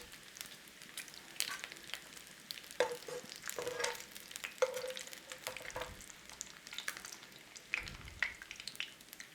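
Large-cut bacon fries in rendered bacon fat in a pan with quiet, steady crackling and scattered sharper pops and spits, heard alone.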